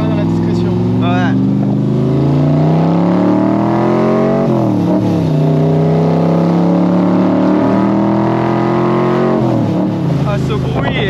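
Shelby Cobra sports car engine revving loudly and continuously from inside the cabin, a deep throaty roar rising and falling through several throttle blips, with people talking over it.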